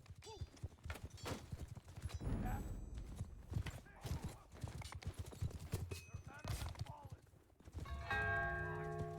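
Horse hooves clip-clop amid a chaotic medieval battle video game, with clanking, shouts and a bell-like ringing toward the end, a busy mix at moderate level.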